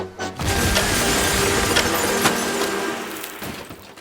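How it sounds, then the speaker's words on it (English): Glass shatters and tinkles as a house is struck and rocks, a sustained crashing clatter with sharp cracks scattered through it that fades toward the end. "The house rocked. Broken glass tinkled."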